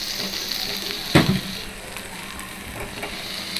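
Okra sizzles softly in a little oil in a pan over a low flame, a steady faint crackle with one brief louder burst as it is stirred, while a person talks.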